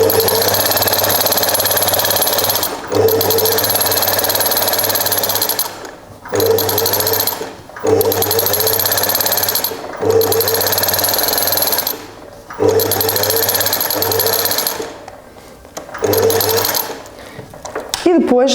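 Sewing machine running a straight stitch around the edge of fabric for a side-seam pocket, loud and close, in several sustained bursts of steady motor hum separated by short pauses.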